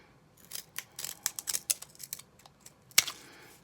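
Scissors snip repeatedly at something stiff, a run of sharp close clicks and crunches, ending with one loud snap.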